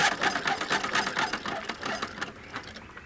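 A sewing machine stitches down the side seam of a bias cut skirt, a close, rapid rattling whir of needle strokes that slows and fades toward the end.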